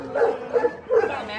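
An adult Shiba Inu gives three short, high yips in quick succession, close to the microphone, against faint background noise.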